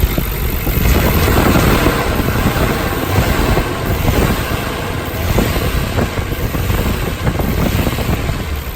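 A Nissan Skyline R34 GTR engine idling while still cold, a steady low rumbling drone with slight pulsing and some wind noise, close and continuous without speech.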